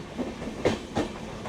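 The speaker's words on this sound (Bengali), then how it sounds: "এই যে আমাদের ট্রেন যাচ্ছে এইদিকে বেনারস জংশনের দিকে" An Amrit Bharat Express on the Sealdah–Varanasi route running along the tracks toward Varanasi Junction, a brief rumble with a few rhythmic clacks of wheels over rail joints, heard from inside the train.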